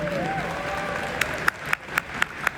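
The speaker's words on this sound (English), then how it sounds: "So please give these people a huge round of applause." Talk at a Winnipeg convention gives way to a few sharp, separate handclaps at a steady pace, the start of audience applause rather than a full ovation.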